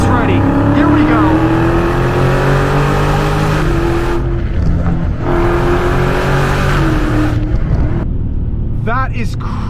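Dodge Scat Pack V8 engine revving hard on full throttle, a loud sustained roar with rising and falling pitch sweeps, close up, with a voice talking over it.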